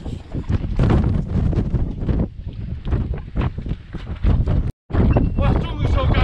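Strong, cold wind blows across a seashore during rough-weather tidal foraging, buffeting the microphone with a loud, continuous rumble and gusts, broken by one brief dropout.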